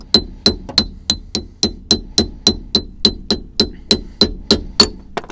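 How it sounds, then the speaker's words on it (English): A hammer strikes a chisel about three times a second, knocking the cap off a rear brake drum on a Suzuki Wagon R+ 1.3: a steady series of sharp, ringing metallic clinks, close and loud. "hammer and a chisel for this bit, and you're going to want to knock this little"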